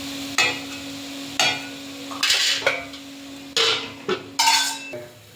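A metal lid set onto a cooking pot of methi greens on the stove, several close clanks and scrapes of metal on metal over a steady background hum.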